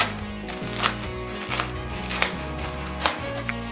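A sharp knife cuts through set, ghee-greased puffed rice chikki in five or six crisp, separate knocks spaced about a second apart, over a steady low hum.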